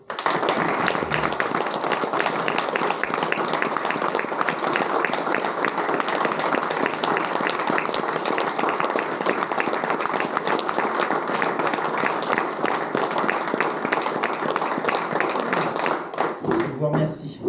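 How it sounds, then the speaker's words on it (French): Municipal council members applaud during a town council meeting, a long sustained round of dense clapping at steady volume that cuts off abruptly near the end, followed by a few faint sounds. "il mérite les applaudissements du conseil municipal"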